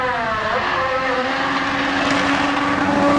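The Renault turbo Formula 1 engine in a Lotus 98T howls at high speed, a steady, loud, high-pitched drone that holds and rises slightly, with faint rushing noise underneath.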